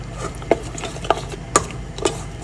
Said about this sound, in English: you kind of want to be close with a spoon to stir it because you don't want to burn the chocolate